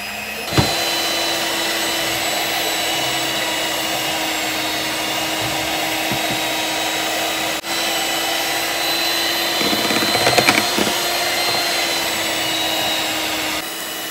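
An electric hand mixer whirs steadily through banana bread batter made with brown sugar, a continuous motor drone with a few clicks and a short rattling stretch near the end.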